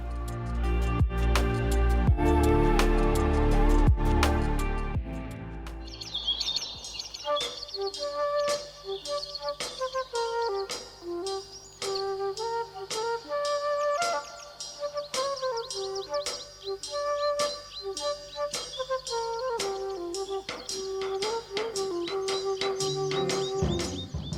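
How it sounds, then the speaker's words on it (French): Recorded birdsong played through loudspeakers outdoors at dawn in misty countryside, steady chirps and warbled phrases repeating over a sustained tonal background for the whole stretch, fairly loud and continuous with no talk. "Depuis l'aube, des diffuseurs envoient des chants d'oiseaux à travers la brume matinale."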